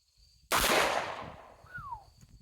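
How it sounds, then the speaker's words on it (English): A single sharp gunshot from a Charter Arms Pit Bull 9mm revolver, loud and close, with a decaying outdoor echo and a faint whistling tone trailing after it. "Here, let's see how it shoots. And our standard test of 6 on single, 6 on double."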